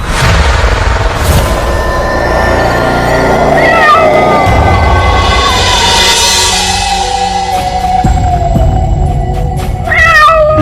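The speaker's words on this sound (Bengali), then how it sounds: "হঠাৎ শুনতে পেল বিড়ালের ডাক।" A cat meows several times at night, clear and fairly loud over a dense layer of music and background sound, with the calls rising and falling across the clip.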